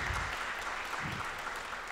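An audience at a business conference applauds steadily, a dense wash of clapping throughout, moderately loud.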